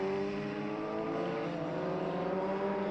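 Gloria B4 race car powered by a Yamaha R1 engine on a circuit, a steady buzzing high-revving engine drone held for a few seconds at moderate distance, with no talk.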